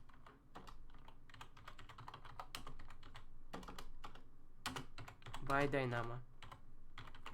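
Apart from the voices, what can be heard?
typing on a computer keyboard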